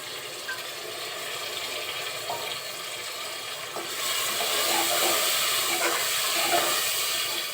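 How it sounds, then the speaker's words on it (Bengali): A little water poured into a pot of beef curry spices: a soft hiss runs through the first half, then swells into a louder, broader steaming sizzle partway through as the liquid hits the hot pan. "অল্প পরিমাণে পানি দিচ্ছি"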